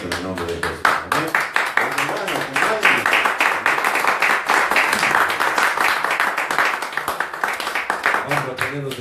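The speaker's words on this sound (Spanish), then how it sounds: "Denle un fuerte aplauso al Señor en esta noche en el nombre de Jesús" Congregation clapping at a church service, loud, rhythmic and close, with sharp hand claps beating at a steady pace over a dense crowd of applause, while voices call out beneath the clapping.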